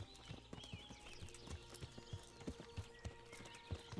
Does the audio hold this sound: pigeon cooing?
no